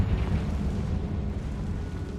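The Confringo blasting spell in Hogwarts Legacy bursts into a loud, rumbling explosion, a deep roaring blast that fills the space and rolls on steadily without a break.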